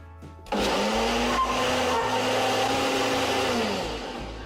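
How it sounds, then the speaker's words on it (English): A blender whirs to life blending ingredients for Zhong sauce, starting abruptly and running as a loud, steady motor roar with a slight pitch rise, then easing toward the end. "Throw it in a blender, blend it up for about 25 seconds."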